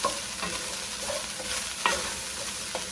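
Sausage rice with cauliflower stirred and tossed in a hot pan, a steady close sizzle with scraping strokes and a sharper clatter near the middle.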